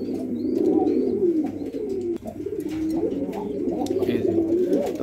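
Jhorna satin pigeons coo steadily in a low, rolling drone, a continuous close chorus of overlapping calls with a brief dip midway before the cooing resumes.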